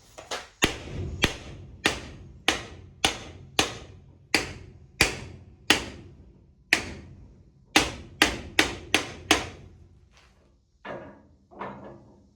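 Hammer blows ring out on a seized brake drum of a 1966 Chevy C10, a steady series of about twenty sharp, loud metallic strikes spaced roughly half a second apart, with a short pause midway and a few lighter taps at the end.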